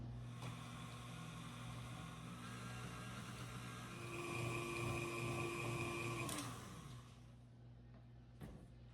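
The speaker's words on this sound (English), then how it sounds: "I want to turn my mixer back on and mix it up till it's very smooth" Electric stand mixer running steadily as it beats sour cream pound cake batter until smooth, a continuous motor whine with a slight rise in pitch midway, then cutting off near the end, with no talking.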